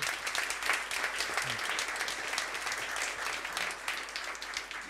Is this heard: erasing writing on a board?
no